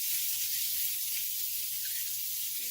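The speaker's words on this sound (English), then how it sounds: "that's what you want to hear, that nice sizzle" Food sizzling in hot oil in a home kitchen pan, a steady bright hiss that holds evenly throughout, close and fairly quiet with no voices over it.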